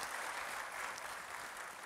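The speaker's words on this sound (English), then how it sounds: "A big round of applause." Audience applause in an auditorium at a bar association farewell function for a judge, heard as a dense, even wash of clapping, fairly faint and distant, without talk.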